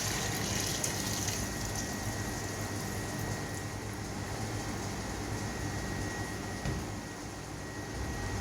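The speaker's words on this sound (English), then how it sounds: "now we're moving on to the next process where we're going to rinse this with plain water" Salted fish for dried tuyo are rinsed in plain water, giving a steady, continuous wash of running and splashing water close by, unbroken for several seconds.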